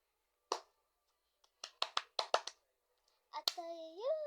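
A child claps hands in short, crisp bursts, one clap, then a quick run of several in an uneven rhythm, close by in a quiet room, before a voice starts talking.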